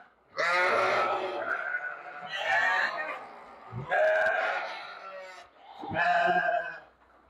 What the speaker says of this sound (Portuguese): Mais um lote aí de ovelhas.